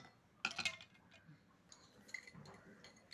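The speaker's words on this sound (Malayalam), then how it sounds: "ഇനി നമുക്ക് ഐസ് ക്യൂബ് ഇതിലേക്ക് ഇടാം" Ice cubes drop into a glass of freshly made mint lime juice, giving a quick cluster of faint clinks and knocks near the start, followed by soft, quiet handling noise.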